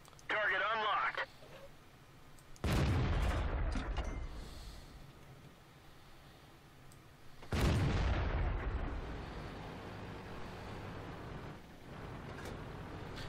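Tank guns firing in World of Tanks during a Type 4 Chi To match, with two loud, close booms that each roll into a long rumbling decay, preceded by a short burst of radio-like game audio.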